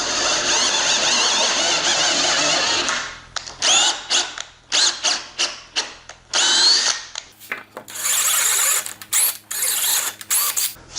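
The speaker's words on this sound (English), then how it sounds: "I put a piece of guide tape on a 1/4 tap at 5/8 of an inch and ran the" A power drill driving a 1/4 inch tap into holes to cut threads for a tablesaw mobile base, first a long steady whine, then short stuttering bursts and a final run, close and loud with no talk.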